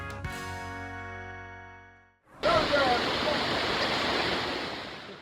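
Dunn's River Falls in Ocho Rios, Jamaica roars as a loud, steady wash of falling water that fills the scene after a brief quiet start, with a few faint voices picked out above the rush.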